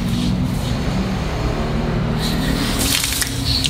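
An outdoor hose sprays cold water over a head of hair, a loud, steady rush of water with shifting splashes toward the end.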